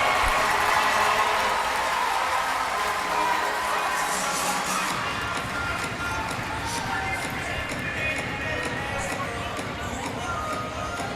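A crowd at a Utica City FC indoor soccer match cheers and shouts loudly throughout, a continuous roar with scattered whistles and shouts, fading slightly toward the end.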